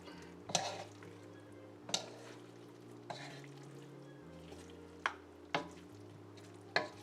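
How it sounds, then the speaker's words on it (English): A spoon stirs salted pinakbet vegetable stew in a pot, making about half a dozen sharp knocks and scrapes against the pot over a faint low sizzle, with soft steady tones in the background. "Every time you add salt, you have to stir it."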